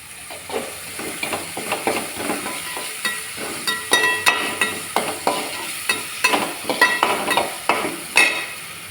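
Onions sautéing in a pan for an egg gravy, with a sizzle under rhythmic, repeated spatula scrapes and stirs at a steady pace, close and clear.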